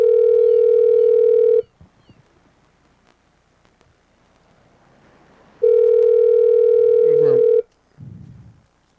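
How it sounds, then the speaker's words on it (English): Telephone call audio: a steady, loud ringback tone sounds twice, each burst about two seconds long with a pause between, then a brief voice answers at the end. "But here, let's give him a call."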